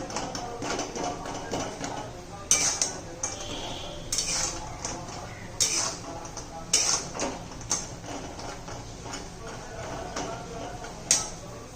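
Sweet shev being stirred through sugar syrup in a pan, with repeated scraping and clinks of a spoon against metal, some sharp knocks standing out over a steady background bubbling and rustle.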